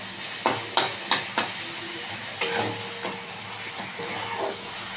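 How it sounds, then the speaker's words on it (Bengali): Spices and a spoonful of gram flour frying and being stirred in a pan for a veg curry, with a steady low sizzle broken by several sharp scraping spoon strokes, close and alone with no talk. "এই মশলার সঙ্গে ভেজে নিয়ে ভালো করে দিতে হবে।"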